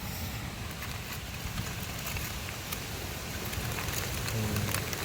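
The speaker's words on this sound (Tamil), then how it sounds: "கைஸ் மழை வருது." Steady rain falling outdoors at a river mouth among hills, a dense continuous hiss of drops with scattered patters, moderately loud and unbroken, no talking.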